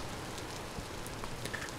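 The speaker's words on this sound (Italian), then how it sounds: "Piove a dirotto naturalmente." Heavy rain falling in the video game Vintage Story, a dense steady hiss of downpour with scattered drop patters, even and constant throughout.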